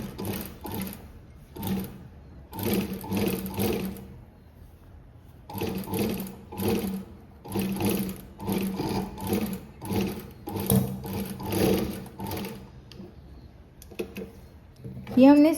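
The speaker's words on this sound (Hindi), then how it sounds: "यहाँ पे इस तरीके से सिलाई लगा देंगे।" An electric sewing machine stitches blouse fabric in quick bursts of rapid needle chatter separated by short pauses, close and clear, with occasional quiet handling noises.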